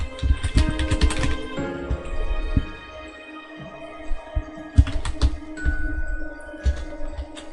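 Rapid clicking of computer keyboard keys in uneven bursts with brief pauses, close and moderately loud over a faint background hum and tones, with no talking.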